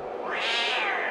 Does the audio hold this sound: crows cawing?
no